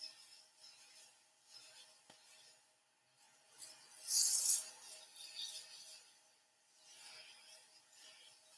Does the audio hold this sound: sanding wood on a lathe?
yes